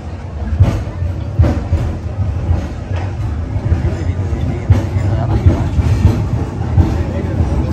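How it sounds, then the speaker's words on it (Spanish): A tram ride, with steady low rumbling and repeated rail clatter and jolts throughout, the rolling noise close and continuous while voices talk faintly in the background. "Nos vamos a montar en el tranvía."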